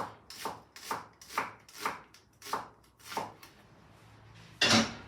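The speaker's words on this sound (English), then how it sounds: "I'm going to cut an onion finely." An onion being finely chopped on a cutting board: seven crisp, evenly spaced knife strokes in a steady rhythm, close and clear, ending with a louder clattering thunk.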